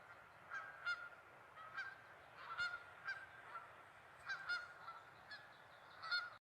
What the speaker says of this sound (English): there's a couple of paradise ducks zooming off there